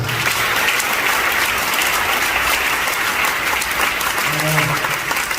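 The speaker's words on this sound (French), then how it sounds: "Ovation encore pour lui." Sustained applause fills a parish anniversary celebration as an ovation for a speaker, a dense, even clapping from a large audience with a voice briefly audible over it.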